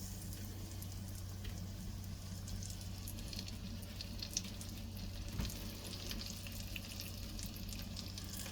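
Salmon patties fry in hot oil with a steady, even sizzle that keeps going. The crackle stays close and constant throughout, with a few faint clinks in the background.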